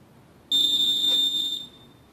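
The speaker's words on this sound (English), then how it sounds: "press the program button again on your QSM till you hear a beep" A Lutron QSM lighting control module in a low-voltage switching setup emits a single steady electronic beep lasting about a second, clear and close against a quiet background.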